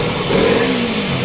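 KTM RC 200 motorcycle engine with a battery charging fault, revving loudly and close by in a short continuous burst with no talk.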